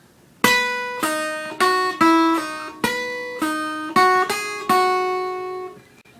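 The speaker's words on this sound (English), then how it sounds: "what the lead guitar does during the pre-chorus sounds like this." Lead guitar line from the pre-chorus of a song, a slow sequence of about nine clean, ringing picked notes, each sustaining and decaying before the next, played alone and clearly up close.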